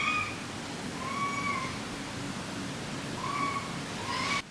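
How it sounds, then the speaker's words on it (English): A cat meows loudly in a room, giving two drawn-out cries close by with a steady background hiss and no talking. "The cat was screaming."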